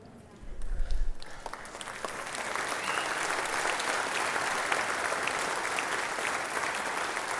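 Audience applause after a patriotic story at a concert, steady dense clapping from a large crowd that swells in after a low thump and keeps going evenly.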